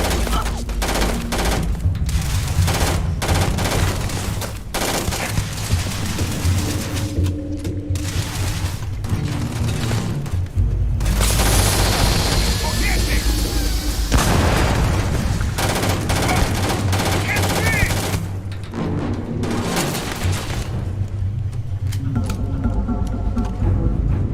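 Gunfire in a firefight in the video game Starfield: dense, loud bursts of automatic fire and booming shots run almost without pause, with mechanical clatter between them.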